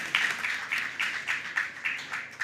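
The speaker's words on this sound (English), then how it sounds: "Round of applause for Sally and her panel" A conference audience applauds a panel at the end of a session, with several bursts of clapping rising and falling in a steady wave.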